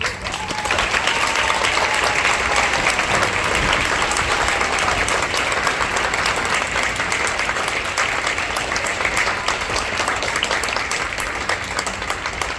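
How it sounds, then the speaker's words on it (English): Sustained applause from an audience at a school spring concert, greeting 8th graders standing for recognition; dense, steady clapping fills the room at a constant level throughout with faint voices mixed in. "Let's give them a round of applause."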